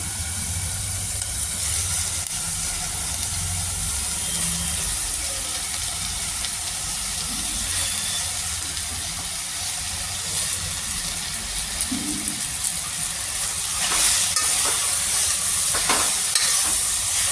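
Chopped spinach for palak bhaji is stirred as it fries in a pan, giving a continuous sizzle with scraping stirs that get busier toward the end. No talking is heard.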